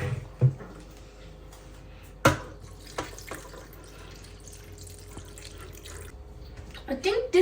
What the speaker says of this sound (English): And then after this, I'm going to add some water.